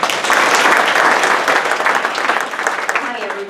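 A room of listeners claps to welcome a presenter, a close, fairly loud burst of applause that fades and grows uneven toward the end, where a voice begins.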